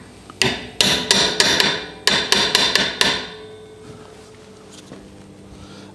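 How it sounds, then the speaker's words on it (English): A hammer strikes a brake drum about a dozen times in quick, ringing knocks grouped in two runs, then the clanging stops and fades. "I'm gonna use a hammer and knock gently on the sides."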